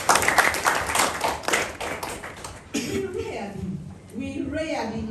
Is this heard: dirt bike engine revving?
no